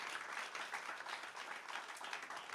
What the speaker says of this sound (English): Clap on that if you really agree with that.